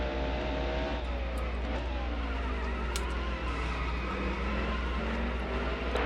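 Race car engine from NASCAR Heat Evolution on the Sonoma road course, a loud continuous roar with rising and falling pitch as the car revs and brakes through corners, steady throughout with no talking.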